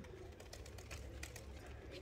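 A racing pigeon returning at dusk from a cup race coos faintly in soft, low murmurs against steady quiet background noise.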